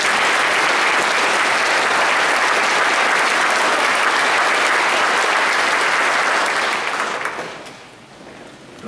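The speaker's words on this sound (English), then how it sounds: "round of applause for Krista Evans." Loud, full applause from an audience at a holiday concert, a dense steady roar of clapping that holds for several seconds and then drops away quickly near the end.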